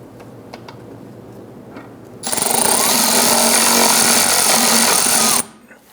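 A power driver snugs T20 screws into a 2005-2010 Chrysler 300 fog light, a loud steady whirring burst lasting about three seconds with quiet shop background before and after.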